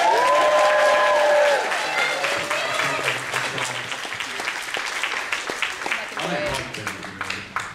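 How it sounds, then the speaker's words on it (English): An audience gives applause for the MC at an event, starting with loud cheering and whoops over clapping, then settling into steady clapping with scattered voices and some talk under it. "Big round of applause for our MC, Dean, please."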